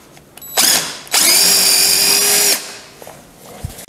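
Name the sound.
power drill making a hole in wood rocker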